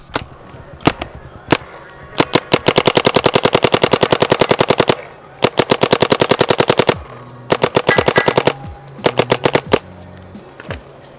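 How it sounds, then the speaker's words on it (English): An LV2 Caesar edition airsoft gun fires on an outdoor field in long, loud, rapid bursts of sharp mechanical snaps, broken by short pauses and a few single shots. "Wait, what gun is this? This is the LV2, brand new Caesar edition."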